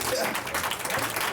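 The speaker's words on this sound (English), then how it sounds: "Clap it up for that" An audience claps for a poet in a burst of dense, steady applause that fills the whole moment at close range, with voices cheering and talking over it.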